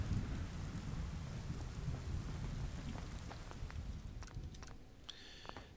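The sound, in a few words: rain and thunder in video game Fallout: London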